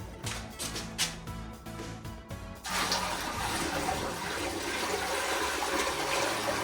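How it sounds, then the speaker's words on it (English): A household toilet flushes after a bucket of water from a fish tank is dumped into it, a loud steady rushing gush that starts a few seconds in and keeps going, close by, after some clattering and sloshing. "Let's dump this water in the toilet"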